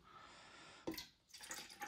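Water poured out of an orchid container, a short splash followed by dripping and trickling, close and fairly faint, with no voices.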